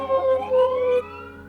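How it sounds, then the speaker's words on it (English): An emergency siren wails loudly close by, its tone sweeping and pulsing briefly before dropping away. "sirens."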